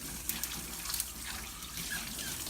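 Tap water runs steadily into a sink or tub while a poodle puppy is bathed, a soft continuous hiss with a few brief splashes and no talking.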